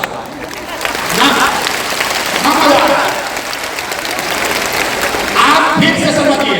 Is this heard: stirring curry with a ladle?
no